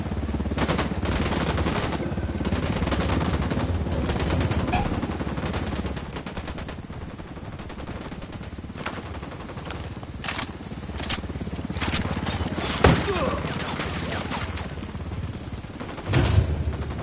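Gunfire in the video game Ghost Recon Wildlands, with repeated sharp shots and bursts of automatic fire over a constant rumbling in-game background, a few louder cracks standing out near the end.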